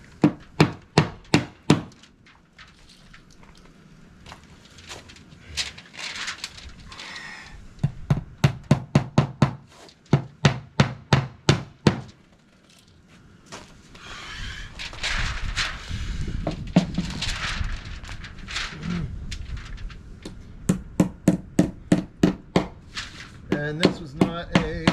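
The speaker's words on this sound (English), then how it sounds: "Watch your ears. I'm gonna hammer." Wood is hammered during winter storm prep in Alaska, sharp loud blows landing in rapid bursts of several strikes separated by pauses, with rustling and handling noise between the bursts.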